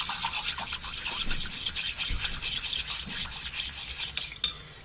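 Salt being stirred into a container of water for a simple science experiment, a steady scraping, swishing stir that keeps up without a break for several seconds, close and fairly loud, ending in one sharp tap.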